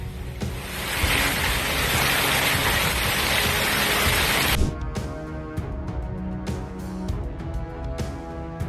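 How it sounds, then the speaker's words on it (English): A severe storm on Merritt Island, Florida, brings a dense, loud roar of heavy rain and hail with strong wind, which cuts off sharply partway through to quieter, scattered sounds. "Severe storms hammered Merritt Island, Florida, bringing strong winds and hail that damaged homes, cars, and trees."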